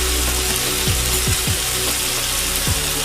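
Ground spices (turmeric, coriander, cumin and red chili powder) sizzle in a pan with mashed tomatoes for palak paneer, a steady, dense hiss broken by a few soft scraping strokes, with no talking.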